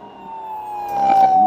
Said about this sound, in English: turn on the sirens here